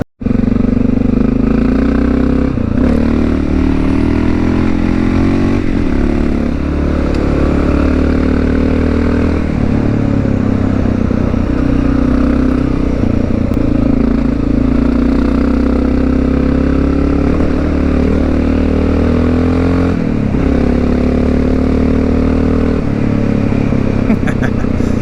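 A Honda XR650L motorcycle is ridden on a cool morning in the Blue Mountains, its single-cylinder engine a steady, close, full-throttle drone with small dips in pitch throughout, and wind rushing over it.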